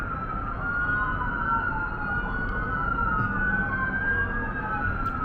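Several emergency sirens from an ambulance and fire truck wail at once in Las Vegas, their rising and falling tones overlapping above steady traffic rumble, moderately near and continuous.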